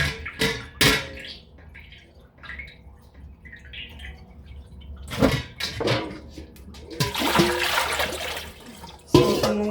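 Food for Mexican posole is rinsed under running water, with bursts of splashing and gushing from a tap into a sink, close by and alternating with quieter gaps and a few drips, no talking.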